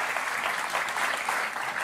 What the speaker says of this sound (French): Kylian, vous êtes applaudi par les supporters qui sont sur le plateau de beIN Sport